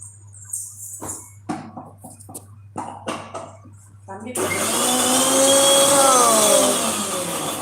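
A mixer grinder blending coconut chutney (thuvaiyal) starts up after a stretch of talking, then runs as a loud, steady whine with a rising and falling motor pitch.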